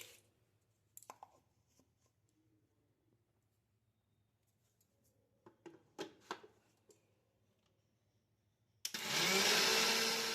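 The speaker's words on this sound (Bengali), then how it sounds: "এবার আমি মিক্সিতে নিয়ে নিচ্ছি পিসার জন্য" Kitchen mixer grinder grinding homemade dishwashing powder ingredients: after near silence with scattered clicks and handling knocks, the motor bursts on loud and close, a dense steady roar at the end.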